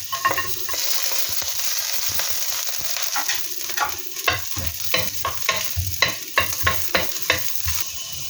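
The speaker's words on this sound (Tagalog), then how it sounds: "igigisa na po natin ang ating luya" Ginger sizzles in hot oil in a pan with garlic about to go in, a steady frying hiss broken by repeated close scraping stirs of a utensil, with no talking.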